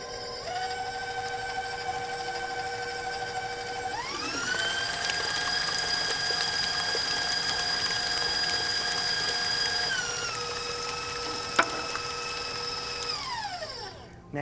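An electric mixer beats cream cheese for no-bake pumpkin cheesecake bites, a steady motor whine that ramps up to high speed, holds for several seconds, then drops back down, close and continuous without speech.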